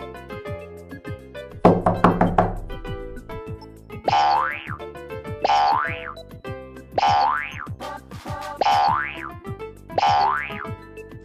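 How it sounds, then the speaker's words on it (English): A goofy cartoon door knock: a quick flurry of raps followed by five evenly spaced springy boing hits, loud and bouncy over a steady plucked musical beat. "because of a goofy knock on the door"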